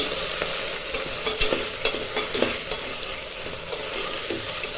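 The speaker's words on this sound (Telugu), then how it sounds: "1 స్పూన్ అల్లం వెల్లుల్లి పేస్ట్ కూడా వేస్తాం. బాగా కలుపుకుందామండి." Potatoes frying in a pan with ginger garlic paste are stirred: a steady close sizzle with scattered scraping and clinking strokes of the spoon, no voices.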